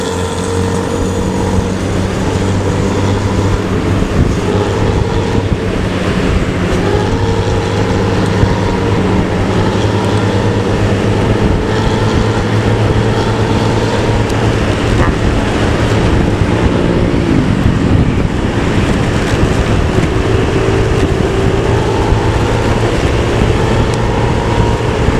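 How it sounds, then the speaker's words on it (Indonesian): A loud modified motorcycle exhaust rumbles continuously for the whole stretch, a deep throbbing roar that stays close and steady, with no talk over it. "Gokil ya, knalpotnya ngorok."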